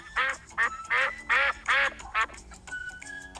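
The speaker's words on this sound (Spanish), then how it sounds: "¡Es un pato!" A duck gives a run of six loud, close, nasal quacks in quick succession, followed by a softer thin note at the end.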